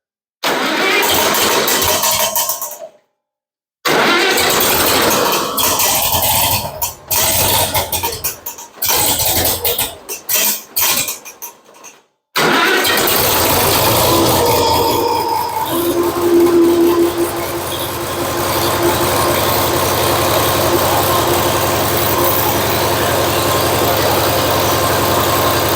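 An International Harvester 460 tractor cranks in several broken bursts with short pauses, then catches and settles into a loud, steady idle that runs on through the rest of the clip.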